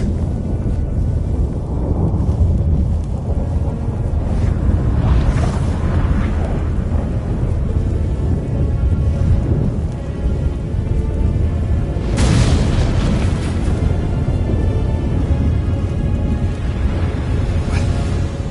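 A roaring storm in The Witcher 3 on PS5 rumbles as a deep, continuous wind-like roar with booming surges, one sharp loud crack around the middle, and no clear talk over it.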